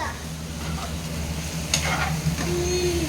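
Spicy egg rice being stirred in a hot pan makes a continuous close sizzle, broken by scraping strokes of the spoon, with faint kitchen noise behind it.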